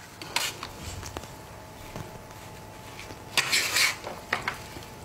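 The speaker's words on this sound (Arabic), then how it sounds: "راح أضيف الصوص اللي سويته على السلطة حقتنا ونخلط" Chickpea salad tossed with tahini sauce in a bowl, soft wet scraping and clinking of a utensil against the dish in irregular strokes, close and fairly quiet, with a louder rustling burst near the end.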